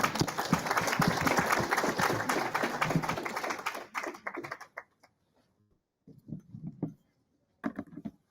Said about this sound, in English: Let's welcome them on stage with a round of applause.